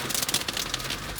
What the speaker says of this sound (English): That was great until it started hailing.